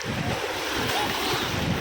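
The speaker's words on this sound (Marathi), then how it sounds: "तर आता हा बघा समुद्राला आता भरती येते." Sea waves of the incoming tide wash in during a Ganpati immersion at the shore, a steady surf rush mixed with wind buffeting the microphone, moderately loud and continuous.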